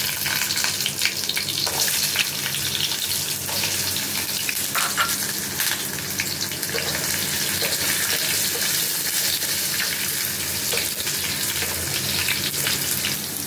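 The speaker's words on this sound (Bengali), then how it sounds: "আলুগুলো লাল লাল ভাজা হয়ে গেছে" Potatoes fry in hot oil with whole garam masala, a loud, continuous close sizzle with scattered sharp pops and the occasional scrape of stirring, steady from start to finish.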